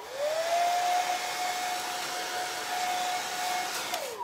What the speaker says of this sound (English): And I'm just gonna use a hairdryer really quick.